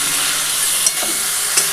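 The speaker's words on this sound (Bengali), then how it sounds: "সামান্য জল দিয়ে একটুখানি কষিয়ে নিচ্ছি।" Ground spices stir-fried with a little water in a wok for a vegetable curry, a loud continuous sizzle with two brief scraping clicks of the spatula against the metal.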